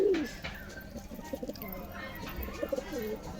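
Pigeons cooing at a home loft, soft repeated low coos close by over quiet background rustle, with a few brief chirps.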